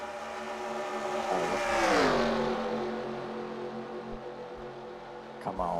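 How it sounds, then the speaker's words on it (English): Race cars roar past in NASCAR Racing 2003 at Talladega Super Speedway, one engine rising to a loud doppler whine around the middle and fading away, with more engine drone and a brief burst near the end. "Watch the cars run."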